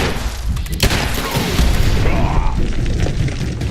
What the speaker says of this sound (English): Oh jeez, it's got a rocket launcher.